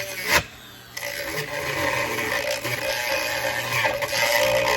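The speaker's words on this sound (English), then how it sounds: "I'm using my ball bit here." A ball bit grinds into delicate plastic for a USB power port box, a steady close rasping scrape that runs continuously after a short sharp start, with no talk.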